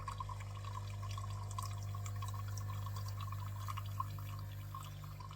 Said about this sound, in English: entered into service mode, and then just kept the pump working